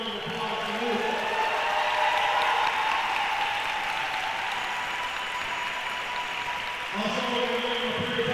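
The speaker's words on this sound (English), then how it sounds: "Please give a round of applause to Luke." A large crowd in a school gym at a boys varsity basketball game applauds to honor a player, sustained loud clapping and cheering, with a sustained tone audible under the crowd throughout.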